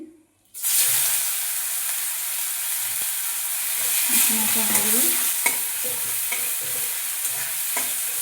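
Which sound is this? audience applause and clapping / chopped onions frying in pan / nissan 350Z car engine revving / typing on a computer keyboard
chopped onions frying in pan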